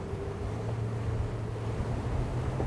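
A ROCK 36 rigid inflatable boat planing at about 11 knots, its engine giving a steady droning hum under a continuous rush of wind and water, loud and unbroken.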